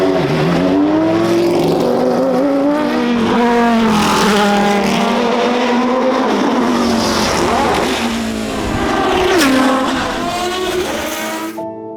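The V10 engine of a Porsche LMP 2000 race car roars loudly and continuously, its pitch climbing and falling through gear changes as it accelerates nearby, with no talk over it.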